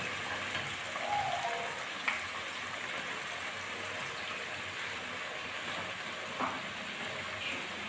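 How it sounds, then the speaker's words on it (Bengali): Chopped garlic sautés in a spice masala with a continuous, even sizzle that sounds almost like light rain, broken by a few faint clinks of a utensil and with no talking. "এবার আমি এই যে কুচিয়ে রাখা রসুনগুলো মশলার ভিতর দিয়ে একসঙ্গে ভালো করে কষিয়ে নেব।"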